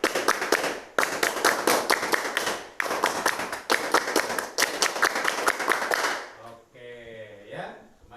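Students in a classroom clap the Indonesian scout rhythm, tepuk pramuka, in two rounds of crisp, patterned group claps. The claps end with a brief murmur of voices afterward.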